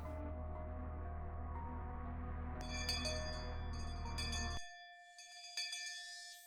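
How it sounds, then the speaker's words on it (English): A school bell rings in a Higurashi visual novel scene, bright metallic strikes repeating with ringing tones over a low background hum; the hum then cuts out and the bell's clear tone carries on alone before fading. "Finally, we heard the principal's bell ringing."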